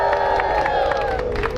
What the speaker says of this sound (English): Get a big, big cheer for all of them.